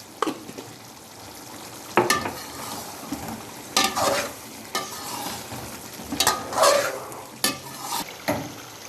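Chicken karahi, Peshawari charsi style, frying and being stirred in spices with ground black pepper in a wok. A steady close sizzle runs throughout, broken by repeated scraping stirs and metal clatter, with no talking.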